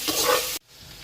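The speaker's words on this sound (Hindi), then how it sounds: "अब मैं इसमें ये ज़ीरा शामिल कर दूँगी, इसको थोड़ा सा भूनूंगी।" A brief burst of sizzling as cumin seeds hit hot oil, loud for a moment, then cut off abruptly into quiet.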